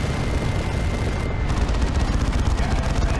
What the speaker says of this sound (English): Oh, that's a nice barrage